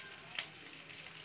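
Tempering spices with curry leaves and coriander sizzle in hot oil for fish kulambu, a soft steady crackling hiss with a couple of sharper spits, close and quiet.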